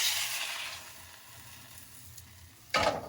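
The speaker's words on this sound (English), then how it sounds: "We have to get browning our meat." Beef for pepper steak sizzles in a hot pan. A bright frying hiss fades to a low simmer, then a sudden loud burst of sizzling erupts near the end.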